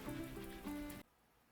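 Light rain falling in Grand Tactician: The Civil War during a skirmish at Washington, D.C., a steady soft patter that holds for about a second before cutting to near silence.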